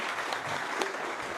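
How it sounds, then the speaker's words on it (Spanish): A church congregation applauding after a sermon, a brief, dense wash of many hands clapping at once, steady and fairly close. "un aplauso para ustedes que estuvieron aquí, pudieron escuchar"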